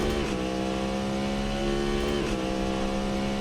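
Cadillac V-Series R race car in Assetto Corsa on the Daytona circuit: a loud, steady high-revving engine drone with sustained harmonic whine and brief dips at gear changes, no talk.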